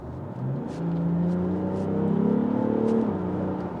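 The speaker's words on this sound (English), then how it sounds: "Ooh, lovely straight six tone coming through there." BMW X4 M40d straight-six diesel accelerating hard in comfort mode, heard from inside the cabin with the sunroof open: a smooth, rising engine note climbing steadily in pitch for a few seconds, loud and continuous, then easing off.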